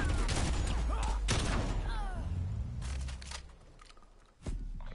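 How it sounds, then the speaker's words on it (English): Rapid bursts of shotgun fire from dual-wielded shotguns in the video game Call of Duty: Cold War, several loud blasts in close succession with game sound effects mixed in. "Dual wield shotgun fire."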